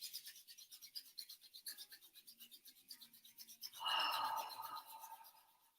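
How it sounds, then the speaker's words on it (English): Palms rubbing together in a quiet room, a soft rhythmic swishing that repeats steadily and swells briefly louder near the end before fading. "So rubbing the hands together."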